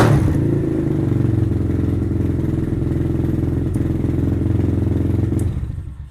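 A Venom Thunder 125 dirt bike engine idles steadily with a loud, even low-pitched rumble and mechanical clatter, close by, fading out at the very end.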